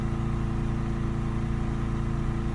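A Ford Transit Custom 2.2 diesel engine idling after being revved, giving a steady, even, close mechanical drone throughout with no voices.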